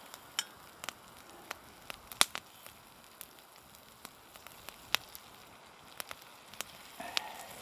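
Butter sizzles and crackles in a frying pan on a cabin stove, a steady close frying hiss scattered with sharp irregular pops and spits.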